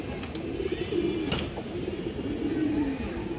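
Racing-stock domestic pigeons, cocks and hens, give soft, low, rolling coos repeated across a few seconds, close by, over a faint hum of surrounding noise and a couple of sharp clicks.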